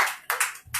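A few scattered hand claps from a church congregation during a worship service, sparse and uneven, with short gaps between bursts.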